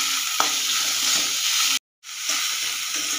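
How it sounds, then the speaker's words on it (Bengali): Paste of onion, garlic, ginger, coriander, cumin and green chilli frying in soybean oil in a pan, a dense close hiss of sizzling with a brief stirring scrape, cut by a short silent gap, no voices. "এটা দিয়ে একটু নেড়ে নেব।"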